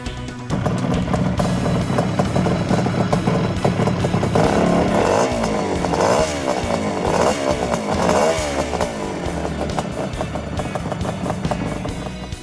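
A 1980 250cc motorcycle engine running loudly and steadily, rising and falling in pitch as it revs through gears, close and continuous.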